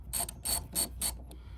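A 10 mm wrench works a bolt loose on a 2017 Toyota RAV4 rear wiper, giving four clicking ratchet bursts in steady rhythm, close and moderately loud, then a fainter final click.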